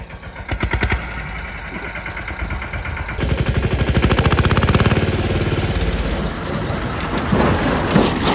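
A small tractor's engine revs hard and loud again and again, rattling and pulsing fast up close, while the driver crunches the gears and the machine fails to move off.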